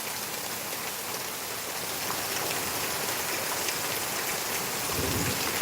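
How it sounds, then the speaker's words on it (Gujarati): Heavy rain pours down steadily during a windstorm in a village, a dense continuous roar of drops hitting surfaces without any pause or voices. "જોરદાર વરસાદ અત્યારે ચાલુ છે"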